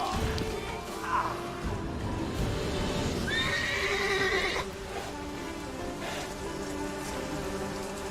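Roach, Geralt's horse in The Witcher 3: Wild Hunt, gives a loud, shrill whinny midway through, set against steady rain pattering on the ground, with some faint hoof clops early on.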